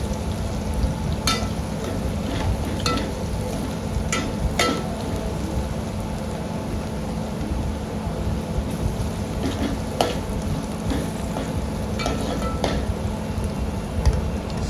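Chopped onion frying in oil while being stirred, a steady dense sizzle with scattered scraping clicks from a spoon, close and continuous throughout.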